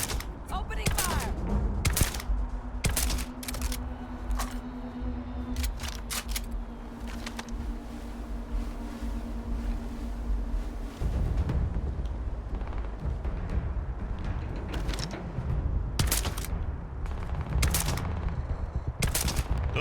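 Gunfire crackles through a fight in Starfield, sharp repeated shots in irregular bursts over about twenty seconds, loud and close, with a sustained tone for a stretch and talk mixed in.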